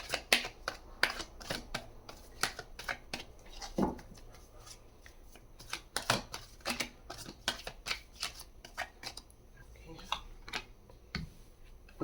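Tarot cards being shuffled and laid out during a card reading, a run of quick papery flicks and taps, close and fairly quiet, with a voice speaking at moments.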